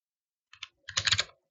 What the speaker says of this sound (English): I typed in unisolate